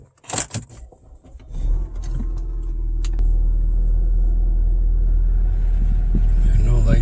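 An Audi A4 B8 engine starts with a short burst of cranking clatter, then settles into a steady, deep idle rumble that continues close by.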